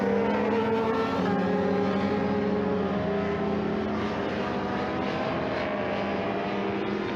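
Superbike engines roar steadily as the bikes race and accelerate around a track during an MRF Super Bikes race, a continuous, fairly loud whine with rising and falling pitch and no talking.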